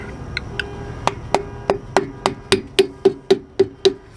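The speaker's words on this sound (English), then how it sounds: "Take our dust cap and our dead blow hammer." A dead blow hammer taps repeatedly on a metal wheel-bearing dust cap on an RV, about a dozen blows that start sparse and settle into a quick, even rhythm, each hit sharp and close.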